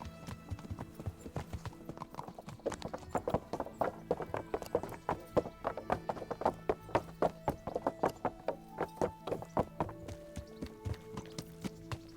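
Horse hooves clip-clop at a steady walking pace in the Kingdom Come Deliverance video game, a long run of evenly spaced, clear thuds with a faint neigh and light background sounds.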